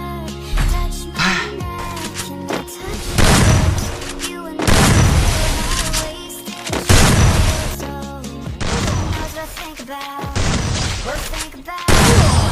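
Gunfire from the Free Fire battle royale game, loud repeated bursts and booming shots in dense volleys separated by short gaps, with headshot hits mixed in and game music and effects layered underneath.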